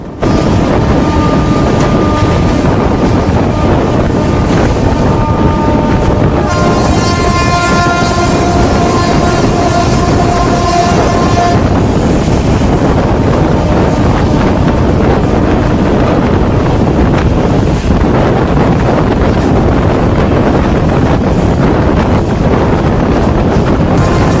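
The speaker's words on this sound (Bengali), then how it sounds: "পুরো 110-এর টান টান টান ছুটছে আমাদের সাইরাং কলকাতা এক্সপ্রেস" Sairang Kolkata Express on its inaugural run at about 110 km/h, a loud continuous roar of wheels and rushing wind heard from on board, with a sustained horn tone sounding partway through.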